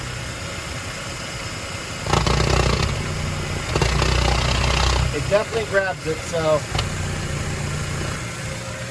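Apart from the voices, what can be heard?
car engine idling, RPM changing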